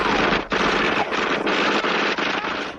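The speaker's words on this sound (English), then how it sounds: "In the confusion, some officers accidentally shoot at each other." Sustained automatic gunfire in a forest shootout from a 1982-style action short film, dense rapid bursts running continuously and loud, with only brief dips between volleys and no voices.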